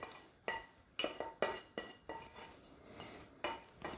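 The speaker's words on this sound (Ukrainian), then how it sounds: "І відправляємо курятину до печериці." Chicken added to a pan of mushrooms and stirred with a utensil: repeated light scraping and clinking strikes against the pan at an irregular rhythm, close and quiet, with faint sizzle underneath.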